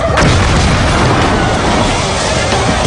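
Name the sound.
nitromethane engine explosion in a drag racing car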